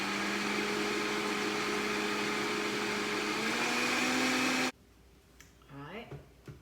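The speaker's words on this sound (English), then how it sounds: "You want to be really careful when you're using a blender and whipping cream" A blender whips cream with a loud, steady motor whine for several seconds. It cuts off abruptly, leaving quieter background sounds.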